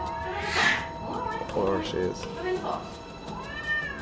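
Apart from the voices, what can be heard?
cat meowing, reluctant to enter box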